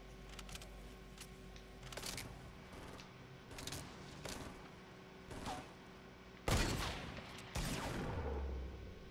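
Shotgun fire in a video game: scattered sharp blasts, faint at first, then a much louder close burst followed by sustained noise.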